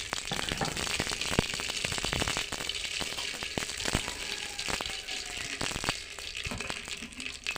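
Cumin and mustard seeds hiss and crackle in hot oil, a loud, dense, steady sizzle broken by many sharp pops and spits.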